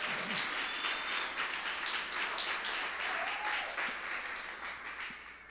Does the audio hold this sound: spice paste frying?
no